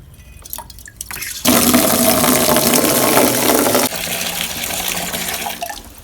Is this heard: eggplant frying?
no